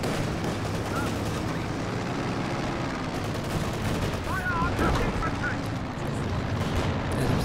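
Panther tank cannon fire amid a Company of Heroes 2 battle, dense rumbling gunfire and explosions forming a steady wash of combat noise beneath a commentator's voice.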